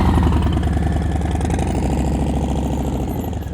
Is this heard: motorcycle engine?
yes